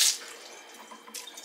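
Water runs and splashes while the dirty water tank of a Bissell Little Green Machine is rinsed out at a sink, a brief gush at the start, then a quieter trickle and a second splash near the end.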